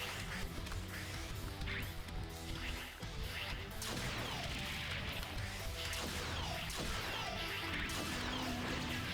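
A metal remix of a theme from the video game 30XX plays loud and dense, with driving drums, crashing cymbals and heavy layered instruments continuing without a break.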